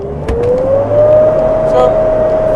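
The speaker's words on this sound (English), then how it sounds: "Land Cruiser coming the other way." A Toyota Land Cruiser passes in the desert, a steady engine and road drone with a rising whine, heard from inside a closed vehicle with loud continuous rumble throughout.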